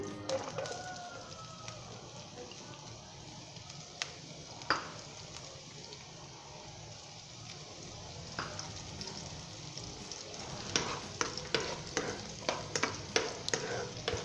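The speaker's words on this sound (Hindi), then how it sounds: "अब हम इसके अंदर एक अदद प्याज डालेंगे कटी हुई।" Chopped onion sizzling in hot oil for Punjabi egg bhurji, a steady close hiss with a sharp clack and a run of rhythmic spatula scrapes and taps toward the end.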